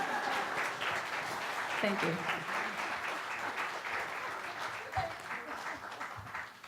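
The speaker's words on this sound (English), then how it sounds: "Let's give it a hand for Karen and the band." Church audience applauding Karen and the band at a Sunday service, a steady wash of clapping throughout with a voice saying thanks over it near the end.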